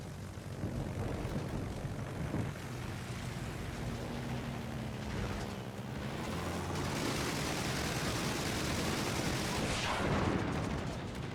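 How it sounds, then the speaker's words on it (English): Rapid HVAR rocket strikes slam into a battleship in World of Warships, a dense continuous roar of explosions and aircraft engine drone that swells toward a bright burst near the end. "17 rocket hits and a fire."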